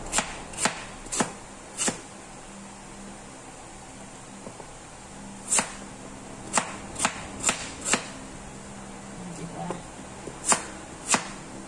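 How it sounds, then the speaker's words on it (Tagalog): A knife chops ingredients for bilo-bilo on a board, with sharp, distinct strikes that come in irregular clusters and pauses. Each hit is close and loud against a quiet background hum, and no one speaks. "tapos na nating hiwain yung ating mga ingredients para sa ating bilo-bilo"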